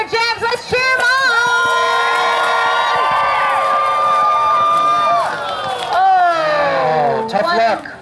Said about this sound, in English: if you like Sir James, let's cheer him on!